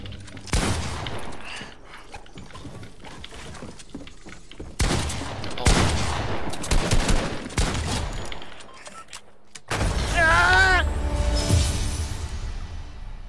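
Rapid bursts of gunfire in the Fortnite video game, dense volleys of shots in several loud clusters with brief lulls between them, ending in a chaotic stretch of gunshots mixed with whooshing game effects and a faint voice.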